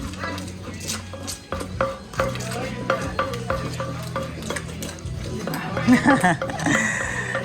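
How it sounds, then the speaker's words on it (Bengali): Papaya salad being pounded and mixed with dried chillies at a street stall, a steady run of knocks and scraping stirs with clattering utensils, close up, under chatter and light laughter from people nearby. "দেখুন শুকনো লঙ্কা এখানে তৈরি হচ্ছে স্যালাড"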